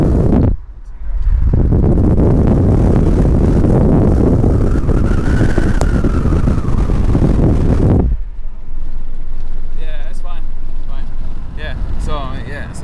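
Loud, roaring wind buffets through an open taxi window in Qatar at about 100 miles per hour, a dense rush that swamps everything for several seconds before dropping away as someone speaks.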